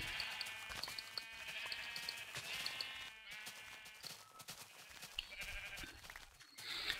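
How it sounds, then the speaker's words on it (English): A flock of Minecraft sheep bleats in the video game, overlapping repeated baa calls in quick succession throughout, close and fairly loud with no talking. "I've only got like 4 of each colour sheep here"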